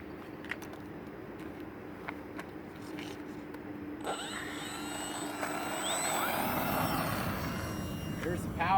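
A Horizon Hobby Spitfire 1.2m RC model plane on a 4S battery spools up its electric motor with a rising high-pitched whine that swells into a loud buzzing roar partway through, with voices around it.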